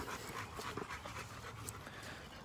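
An American bully dog pants steadily in quick, soft breaths, fairly faint against a noisy background.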